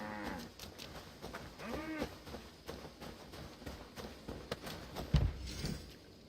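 Cattle moo at a cattle and grain farm in the video game Assassin's Creed Valhalla, a few low calls over quiet farmyard ambience, with a soft thump near the end.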